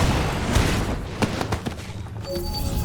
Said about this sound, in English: Using the cannon was actually pretty cool.